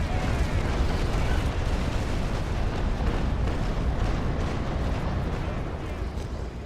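Frigates trade cannon fire in the naval battle game Naval Action Legends, producing a dense, continuous rumble of booming broadsides that fades slightly toward the end.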